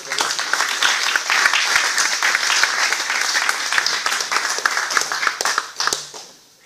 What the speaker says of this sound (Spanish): De esta manera, compañero Edmundo, lo recibimos con un fuerte aplauso al compañero Edmundo.